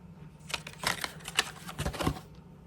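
Paper birthday cards handled up close, a quick series of crisp rustles, flaps and slides in irregular bursts, fairly quiet with no talking.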